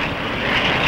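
A Dassault Mirage jet fighter roars past during a 1960 demonstration flight for Switzerland, a loud, steady broadband engine rush swelling slightly toward the end.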